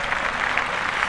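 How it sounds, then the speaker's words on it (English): A short burst of steady applause during a podcast, many hands clapping together in a dense, even patter. "Let's clap that up immediately."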